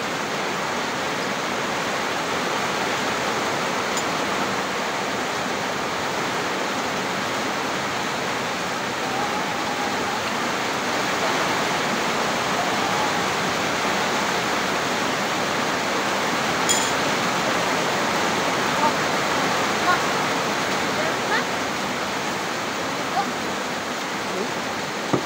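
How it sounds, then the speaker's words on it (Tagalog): Heavy rain pours down steadily in a dense, even hiss that stays constant and fairly loud throughout, with no distinct drops standing out. "Lumakas ang ulan"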